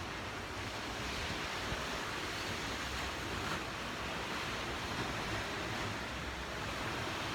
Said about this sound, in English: I'll be quiet so you can hear the waves.